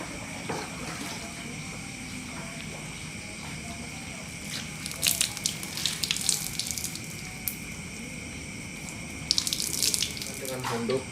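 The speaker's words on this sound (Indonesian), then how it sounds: "selanjutnya disiram dengan air vakum" Water streams steadily over a body being washed, a continuous splashing pour with brief louder splashes and trickles near the middle and end.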